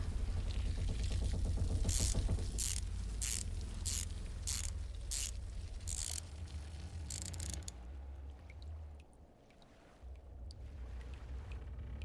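A wrench works on a sink fitting in a burst of rapid, evenly spaced metallic ratcheting clicks over a low rumble, followed by quieter scraping and handling sounds.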